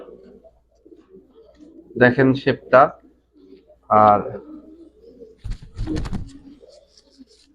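Club racing pigeons with leg tags in a large pigeon collection coo in short bursts near the listener, interleaved with someone talking nearby.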